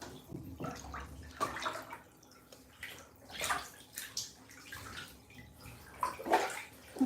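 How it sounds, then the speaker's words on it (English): Water splashes and sloshes in a bathtub during hair washing, with irregular bursts of movement and trickling close by, no talking. "I'm gonna wash my hair now."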